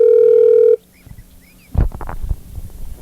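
During a phone call, a telephone sounds one steady, loud electronic tone that cuts off abruptly, followed by muffled handling noise and low rumbling.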